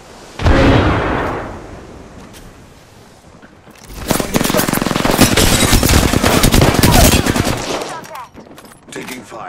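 Gunfire in the battle royale shooter Apex Legends: a dense, sustained volley of rapid shots lasting several seconds follows an earlier loud burst, then tapers off.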